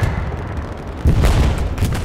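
Gunfire crackles through Hell Let Loose, with heavy booming shots and bursts rolling together in a dense, sustained barrage that swells louder about halfway through, and no voices over it.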